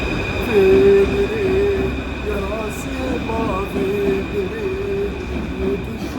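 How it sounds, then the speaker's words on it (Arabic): Paris metro train running, a steady loud rumble of wheels and motor with tonal whining and squeal-like tones rising and falling, heard from close by, with voices faintly in the background. "صورت لكم مترو كامل"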